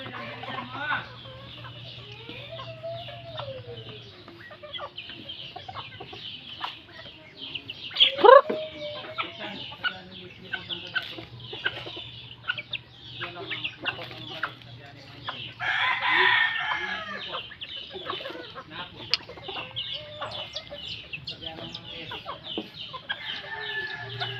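Chickens cluck and chatter continuously close by while a rooster crows loudly partway through, with more crowing and clucking in the background of a farmyard.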